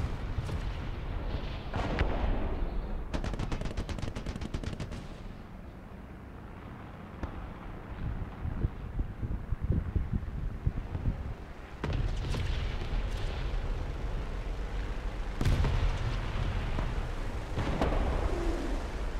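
Tank cannon fire and explosions in the War Thunder video game, a series of deep, rumbling booms and blasts, some close and heavy, others more distant, spread across the whole stretch without speech.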